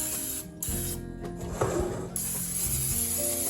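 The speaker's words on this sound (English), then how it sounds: "take some cooking spray, and we're gonna spray the bottom of our pan" A short hissing spray from a cooking spray can coating the bottom of a cheesecake pan, over steady background machinery hum and music, lasting about a second.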